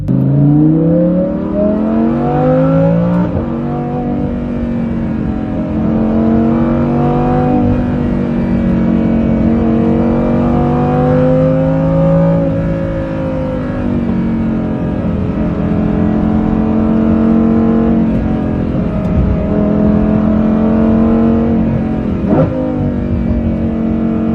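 A Lamborghini Huracan Performante fitted with a Kline Inconel exhaust system revs and accelerates close by, its engine note climbing and easing in long pulls over roughly twenty seconds with a sharp blip near the end and no talking.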